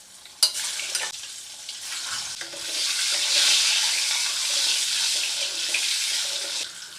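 Cut boiled eggs seasoned with salt, turmeric and red chili powder fry in oil, a loud steady sizzle that swells midway, opening with a few sharp knocks, with no talk.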